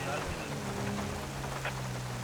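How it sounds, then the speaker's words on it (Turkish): Rain falls steadily in the video game GTA 5, a continuous hissing patter with a low rumbling underneath at moderate level, while someone talks over it. "Şimdi yağmur da başladı zaten."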